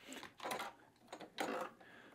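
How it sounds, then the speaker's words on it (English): A sewing machine stitches quilting fabric squares along a marked seam line, running in two short, soft whirring bursts with a pause between them, with no talking. "now we're going to sew on our sewing machine using our needle right on that line"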